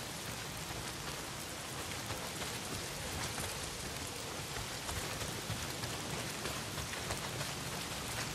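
Rain pours down steadily in the video game Days Gone, a dense, even hiss of drops on surfaces that continues unbroken at a moderate level throughout, with no speech.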